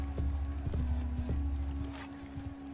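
Horse hooves in the medieval battle game Mount & Blade 2 Bannerlord thud in an irregular galloping rhythm, fairly close, over a steady low rumble and hum of battle ambience.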